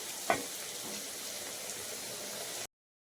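Soft, steady bubbling and sizzling of crab curry boiling in a pan on the stove, with one small clink near the start, then silence.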